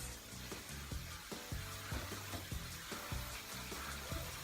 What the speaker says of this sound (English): I'm going to start with the sunflower seeds and wheat and give it a really good rinse.